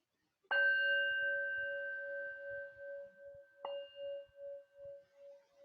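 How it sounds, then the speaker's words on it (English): A meditation bell is struck to close a guided session, ringing out with a bright, sustained tone that slowly fades, then is struck a second time and left to shimmer and decay in near silence. "In a moment, I'll ring the bell to finish."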